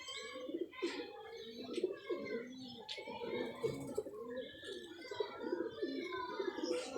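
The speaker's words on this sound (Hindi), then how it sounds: "ये दुबादन मादी बैठ रही है" Pigeons coo in low, rolling repeated phrases, a female among them, with chirps and bird calls mixed in, close and steady throughout.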